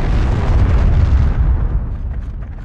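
Panzerfaust explosion in the Heroes & Generals video game: one heavy, loud, close boom with a deep low-end rumble that rolls off and fades over a couple of seconds, no voices.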